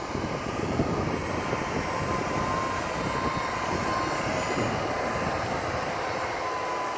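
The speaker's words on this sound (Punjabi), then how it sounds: "ਖੜਕਾ ਵੀ ਘੱਟ ਹੀ ਕਰਦਾ ਹੈ ਟਰੈਕਟਰ" A tractor engine runs on a vegetable farm as a steady, moderately loud mechanical rumble with a broad hiss on top, unbroken across the whole stretch and with no speech.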